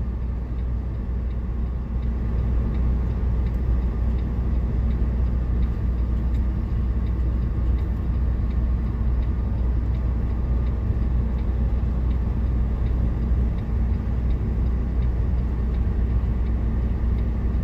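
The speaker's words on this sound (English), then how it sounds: "Still a little wet coming off the back tire on that car." Steady broadband road rumble from car tires rolling on a wet, snowy road, continuous and fairly loud from start to end with no voices.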